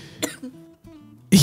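A single sharp cough bursts out near the end, loud and close, after a stretch of faint low murmuring and a brief earlier throat sound.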